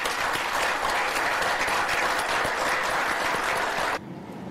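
Loud, sustained applause from a conference audience in a hall, steady dense clapping that continues nearly throughout and drops off abruptly near the end.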